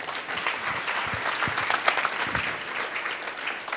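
Church congregation applauding during a sermon, a dense continuous burst of clapping from many hands, moderately loud and steady throughout with no talk over it.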